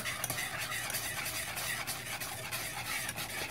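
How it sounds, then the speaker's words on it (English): A spoon steadily stirs a hot chocolate mixture of milk in a pot on the stove, giving a continuous scraping, swishing sound with a faint sizzle beneath, close and even throughout. "we're going to go ahead and mix all of this up"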